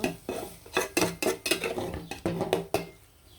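Chicken pieces with ginger and garlic are stirred in a pan, with rapid metallic scraping and clinking of a utensil against the pan in an irregular rhythm, close and clear, and no talk.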